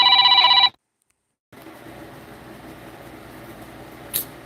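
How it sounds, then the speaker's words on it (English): A telephone bell rings loudly and close for under a second, then stops abruptly; after a silent gap, steady room noise follows with one brief faint high chirp near the end. "Hold on, I gotta answer the phone right quick."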